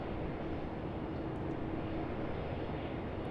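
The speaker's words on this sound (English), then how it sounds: "737 departure, here we go." A Boeing 737 roars down the runway on takeoff at Sydney Airport, a steady broad jet rumble heard from a moderate distance that stays constant throughout.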